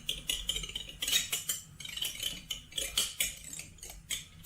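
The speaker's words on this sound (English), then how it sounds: "we're just going to give it a quick little stir here, just to get the yeast and the nutrients down into the" A spoon stirs yeast and nutrients into a mojito-style kilju mead must, making a quick run of close metallic clinks and scrapes in an uneven rhythm.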